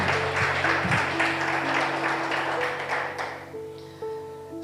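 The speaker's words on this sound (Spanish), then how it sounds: "¿Le damos otro aplauso al Señor?" Sustained applause from a church congregation, dense and steady, with sustained organ or keyboard tones underneath, tapering off toward the end.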